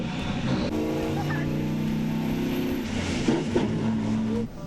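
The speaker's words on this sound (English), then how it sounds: "I can see those tyres spinning, dude. You are bogged." A bogged 6x6 LC79 Land Cruiser revs hard with tyres spinning on an Arnhem Land airstrip, a loud steady engine drone swelling and dipping for several seconds before cutting off, with voices over it.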